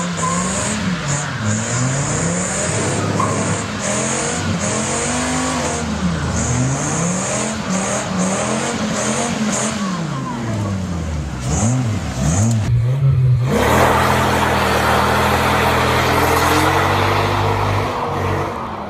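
A car engine revs up and down repeatedly, then a loud burst of tire-spinning roar and squealing noise takes over as it does a burnout.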